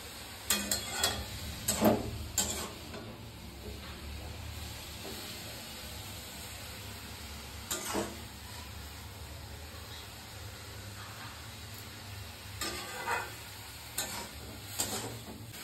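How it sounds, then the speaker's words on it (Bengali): Carrots frying in hot oil give a faint steady sizzle throughout, with a few brief stirring scrapes and clatters rising above it in spurts. "আমি 2 মিনিট মতো ফ্রাই করে নেব।"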